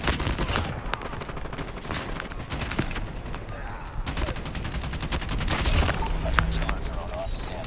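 Gunfire in Call of Duty Mobile: steady rapid automatic shooting runs through the whole stretch at moderate distance, mixed with game noise and occasional excited player talk.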